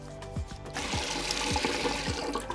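Water runs and splashes at a bathroom sink during washing, a fairly quiet, continuous gush and spatter from the tap with irregular slaps and drips, close by and with no voices.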